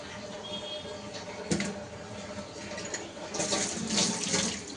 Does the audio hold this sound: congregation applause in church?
no